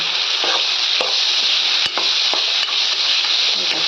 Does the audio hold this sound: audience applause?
no